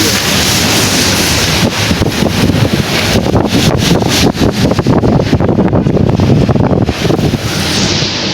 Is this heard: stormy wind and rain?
yes